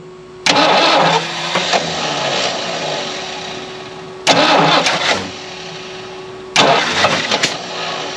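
A Lincoln Continental left abandoned for 32 years, with sticky valves, cranks and fires three times close by, each start catching into a rough, loud idle before dying back.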